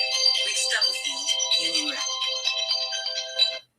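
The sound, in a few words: phone ringtone for an incoming call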